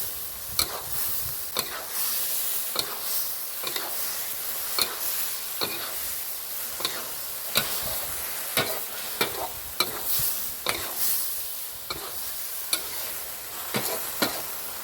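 Steady crackling sizzle of baby corn and minced pork stir-frying in a hot pan, with regular sharp scraping clacks of a spatula tossing the food, no voices.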